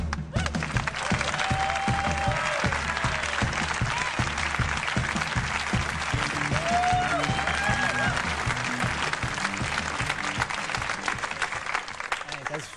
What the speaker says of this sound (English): It's very cool of you to applaud for me.